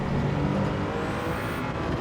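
Toyota GR010 Hybrid race car in Gran Turismo 7 at Spa, its engine droning steadily at high revs as it short-shifts up to sixth gear, a continuous loud mechanical roar with faint tire noise.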